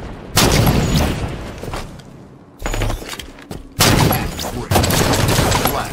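Heavy shotgun fire in a video game, a few loud sustained blasts separated by short gaps, close and forceful, with a faint voice underneath.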